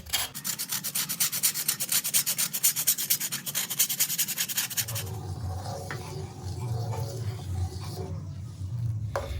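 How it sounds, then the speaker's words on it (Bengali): Date palm jaggery scraped on a grater makes rapid, rhythmic rasping strokes for the first few seconds, then gives way to quieter kitchen handling noise. "এবার এটাকেও আমি একটু গ্রেট করে নেব গ্রেটারের"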